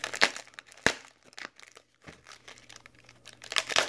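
A well-packed parcel is cut open, its packaging crinkling and tearing in sharp, close bursts separated by brief quiet gaps, with a louder rustle near the end.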